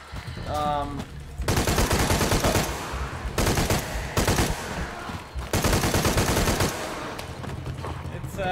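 Automatic weapons fire in a Tomb Raider game comes in several long, loud rattling bursts separated by short pauses, with a brief tonal game sound at the very start.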